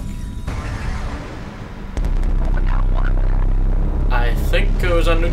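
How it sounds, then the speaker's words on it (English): A nuclear explosion in the video game FEAR 2 hits as a sudden deep boom followed by a sustained low rumble and roar, with game sound and voice-like effects layered over it. "I think it was a nuclear explosion."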